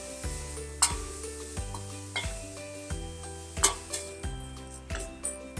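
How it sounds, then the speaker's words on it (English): Grated carrot frying in a pan for carrot spinach rice, with a steady soft sizzle broken by repeated clinks and scrapes of a spoon stirring against the pan, fairly close, no talking. "Grated carrot. We have to fry them for a minute."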